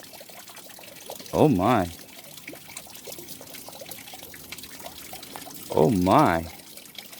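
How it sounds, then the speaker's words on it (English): Water swirls and washes through a gold pan of crushed quartz, a soft continuous sloshing at close range, while a voice exclaims briefly twice over it. "Get it all swirled down into one point. Kind of start an easy wash back."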